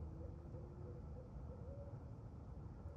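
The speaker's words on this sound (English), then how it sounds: "There's 2 barred owls out there communicating." Barred owls hoot outdoors, soft and distant, with faint calls rising briefly above a low, steady ambient rumble and no voices present.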